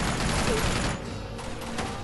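Sustained automatic gunfire in Uncharted 2: Among Thieves, a steady loud barrage that thins briefly midway then resumes with scattered sharp shots.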